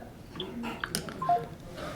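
Telephone number dialed as a few faint, short keypad tones over a quiet background hiss, with a couple of soft clicks from handling the phone.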